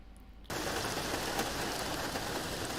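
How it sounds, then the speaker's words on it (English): Steady rain begins abruptly and continues as a dense, even patter of drops on a surface, filling the background at a constant level. "rain sounds for effect"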